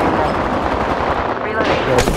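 Gunfire in Apex Legends Arenas, a dense continuous rattle of shots that holds at steady loudness, with game noise around it and a sharper burst at the end.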